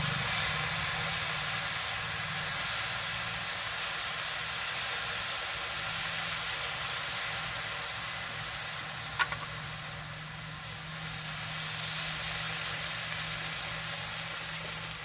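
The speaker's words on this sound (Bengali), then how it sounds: "এখন আমি দিয়ে দেবো জল," Water poured into a pan of jujube pickle cooking brings a steady, loud sizzling hiss with a faint clink partway through, the frying noise easing briefly before swelling again.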